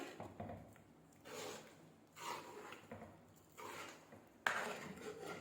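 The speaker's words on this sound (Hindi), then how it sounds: "अच्छी तरह से हम इसे मिक्स करेंगे" A spoon working through chicken chana dal with chopped coriander and green chillies in a pot: soft scraping and rubbing strokes in slow, spaced bursts, quiet and close, ending with one sharper clink.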